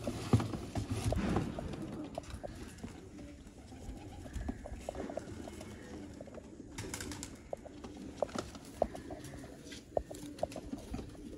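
Breeder pigeons coo softly and repeatedly at close range, with scattered clicks and light rustling in the background.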